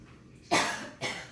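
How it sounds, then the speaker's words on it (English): Two dry coughs, close and fairly loud, the first a sharp burst and the second a shorter one about half a second later. "Oh, that was a dry cough."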